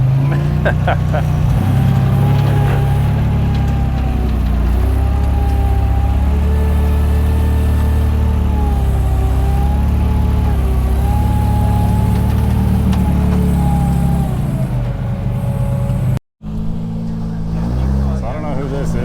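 Four-wheel-steer portal buggy with a Toyota-based build and FJ hood, its engine droning loudly and steadily on a sand trail at Sand Hollow, with rumbling low-end and wind noise and a brief cut near the end.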